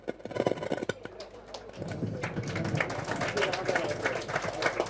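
An audience applauds at the Kusal Brilliance Award 2024 ceremony; a voice speaks over the opening moments, then a full room of clapping swells into a dense, sustained patter.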